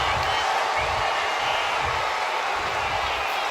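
A wrestling arena crowd in WWE 2K25 roars and cheers as a continuous, fairly loud wash of noise, with faint voices mixed into the din.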